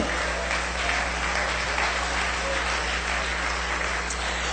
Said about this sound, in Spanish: Dele un aplauso para el Señor.